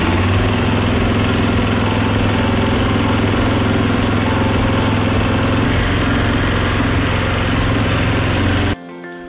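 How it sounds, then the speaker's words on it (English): A KTM 500 EXC F motorcycle engine runs at a loud, steady idle close by, its buzzing drone holding even throughout before cutting off abruptly near the end. "So let's start the bike up."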